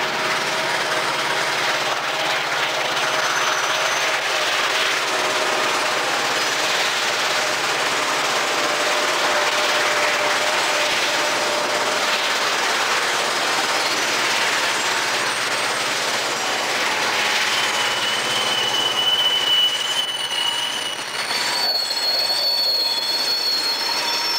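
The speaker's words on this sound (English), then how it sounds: "An eastbound led by an SD45 emerges from the east portal of Tunnel 3." An eastbound freight train led by an SD45 locomotive rolls out of a tunnel portal on the Tehachapi line, a loud steady rumble of railcars with wheel squeal and tonal screeches rising near the end.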